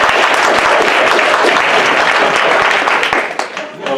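An audience at a Seattle Pathways forum applauds as a speaker is welcomed up, loud, dense clapping close by that thins and tapers off in the final half second.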